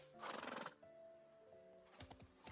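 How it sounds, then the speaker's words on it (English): Horse neighing in the video game Love and Deepspace, a loud whinny opening the scene followed by tonal calls and a few clip-clop hoof knocks near the end, with no talk. "Off we get with the horses."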